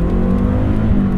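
A Lancia Delta HF Integrale Evo I's turbocharged inline-four engine revs steadily with a deep, throaty rumble and a constant drone, loud and close with no voices.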